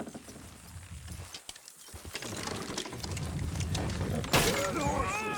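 Horse hooves clip-clop on the ground in Red Dead Redemption 2, irregular clattering steps mixed with creaking wagon sounds, a sharp burst near the end, under quiet character talk.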